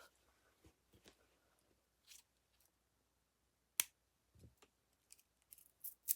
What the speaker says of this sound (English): So I'm gonna cut this piece off.